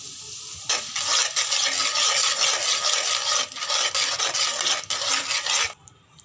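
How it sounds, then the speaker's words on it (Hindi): Yogurt is stirred into a fried spice masala for an okra curry, a close, steady scraping and rasping of a spoon in the pan over a soft sizzle, continuous for several seconds before stopping. "अब इसमें हम डालेंगे आधा कप दही, और दही डाल के तुरंत ही हमें इसे चलाते रहना होगा"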